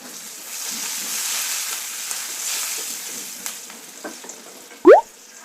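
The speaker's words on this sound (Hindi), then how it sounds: "और इसमें डाल देंगे हम कड़ी पत्ता।" Curry leaves, chopped chilies and garlic crackle in hot oil in a pan, making a continuous close sizzling hiss that fades slightly, with a few soft clicks and a sharp scrape near the end.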